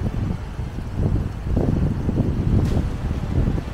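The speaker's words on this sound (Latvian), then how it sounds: "Ui, kā pūš vēja." Strong wind buffets the microphone at a stormy seaside on a rainy morning, a steady low rumbling roar with gusty swells that continues without a break and has no speech over it.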